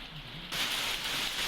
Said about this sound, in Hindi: दो तस्वीरें हम आपको दिखा रहे हैं देहरादून और चमोली की, जहां पर आज बारिश और ओलावृष्टि हुई है।